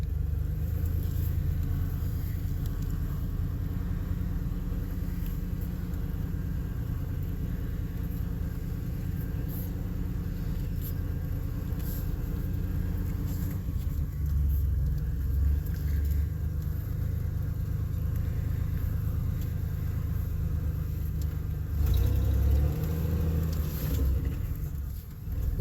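A 1988 Chevy truck rolls along in third gear, low range, giving a continuous low engine rumble that stays steady and moderately loud throughout, with no voices.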